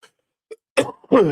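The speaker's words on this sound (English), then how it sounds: "I am going to cough every now and again because I got a chest infection" A couple of short, harsh chest-infection coughs close to the microphone, separated by brief silences with small throat sounds.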